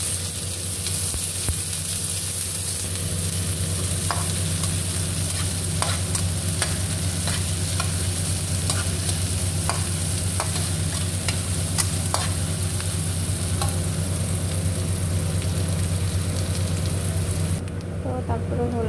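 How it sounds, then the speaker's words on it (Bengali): Chopped onions fry in hot oil, a constant loud sizzle over a low steady hum, with frequent stirring clicks and scrapes that stop near the end. "তেলটা গরম হয়ে গেলে আমি দিয়ে দেবো পেঁয়াজ কুচি।"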